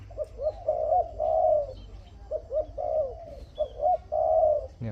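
A decoy dove, an old bird held for calling, cooing in repeated low, rolling phrases, clear and close with short gaps between calls, no voices.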